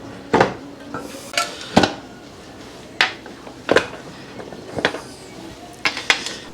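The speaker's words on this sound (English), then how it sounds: "We pop our lid on." Metal lid set onto a pressure canner filled with turkey stock jars, giving a series of sharp clanks and knocks, about eight distinct hits spaced irregularly, close and fairly loud with no talking.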